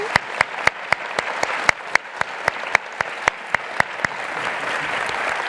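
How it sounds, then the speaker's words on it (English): An audience at a Medal of Honor forum claps in a steady run of sharp, regular beats that carry through the room, then blend into a denser, softer patter toward the end. "Okay, how about a big round of applause for Gary?"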